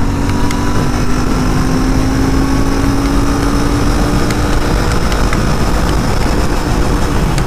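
A Royal Enfield Interceptor 650 BS6 motorcycle pulls hard through third gear toward the top of its rev range, a loud, steady engine drone with rising pitch and wind rush, no voices.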